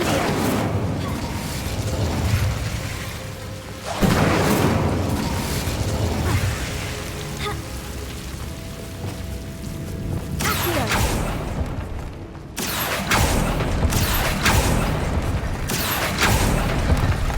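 Spells are cast in Hogwarts Legacy, including the Incendio fire spell. Several loud, booming whooshes and bursts repeat over a thick, noisy bed of game sound, with a few sharp pops in between.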